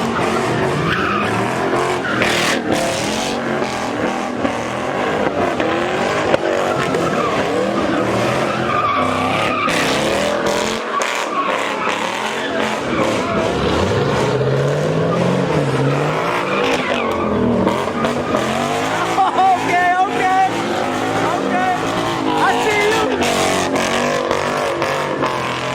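Chevrolet Camaro at a crowded Los Angeles street car meet, engine revving loud and close with tires squealing and skidding in a continuous roar, crowd noise underneath throughout.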